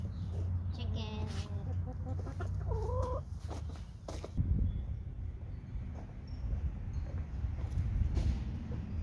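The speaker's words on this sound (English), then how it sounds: "Chicken." Chickens cluck and a rooster calls in a backyard garden setting while a person talks over them, with steady outdoor background noise throughout.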